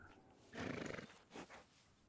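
A horse whinnies and snorts in the Red Dead Redemption II game world, a single rising neigh followed by a shorter breathy snort, close and fairly quiet, with no talking.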